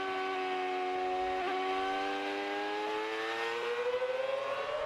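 Lewis Hamilton's Formula 1 car driven at speed at Watkins Glen International, a loud high engine whine climbing steadily in pitch as it accelerates through the gears, heard alone.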